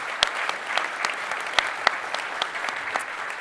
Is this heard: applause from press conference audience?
yes